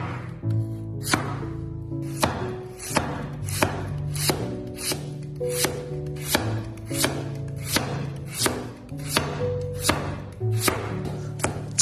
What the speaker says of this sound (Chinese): 接下来将萝卜切成薄片